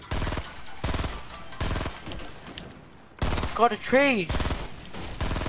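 Automatic weapon fire in Fortnite rattles in repeated loud bursts with brief gaps between them, while a player's voice speaks over the shooting partway through.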